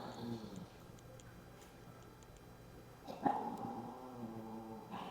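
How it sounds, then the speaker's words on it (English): Dogs indoors give faint yips, a short bark and whimpers in the background, with one brief louder yelp partway through, under a quiet voice. "you dogs need to stop it"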